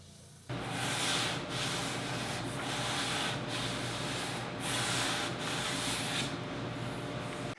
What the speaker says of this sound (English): I'm going to remove a tiny amount of material using the oscillating spindle sander